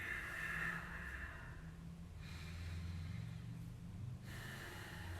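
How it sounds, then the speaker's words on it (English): Soft, close breathing: a slow inhale drawn through the nose followed by a gentler, longer exhale, then another breath beginning, quiet with no talking. "we want to inhale through the nose, and if we can, a slightly slower exhale"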